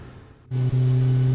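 A glitching aircraft engine in Microsoft Flight Simulator, a Boeing 737 of United Airlines, cuts out into near silence and then returns abruptly as a loud, steady, tonal hum with a brief stutter.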